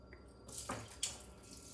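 Quiet water splashing into a sink basin as Borax crystal-making water is poured out, with a couple of brief gushes over a faint background hiss.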